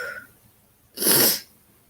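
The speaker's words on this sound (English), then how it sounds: "I was gonna sneeze again." A single sharp sneeze bursts out loudly, close up, after a brief quiet breath, then fades back to near silence.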